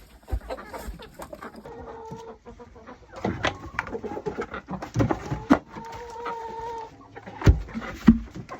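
Backyard chickens cluck and murmur close by in a coop, with short calls, soft squawks and scattered clattering and knocking noises throughout.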